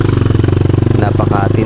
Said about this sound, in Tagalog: Hirap yung aming mga motor.